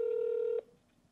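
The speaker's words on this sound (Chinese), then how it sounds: "那我们现在拨打电话。" A telephone tone sounds while a call is placed: one steady electronic beep holds for about half a second, then cuts off and leaves quiet line noise.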